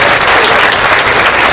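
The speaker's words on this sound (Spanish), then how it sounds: "Y así, con un fuerte aplauso" Loud, dense applause erupts at a ribbon-cutting ceremony inaugurating a regional judicial city in Tulancingo, Hidalgo, a continuous roar of many hands clapping.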